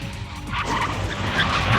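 In the Steins;Gate Elite video game, a limousine's tires screech as it skids to a halt in an alleyway, a noisy hiss that swells and holds for under two seconds.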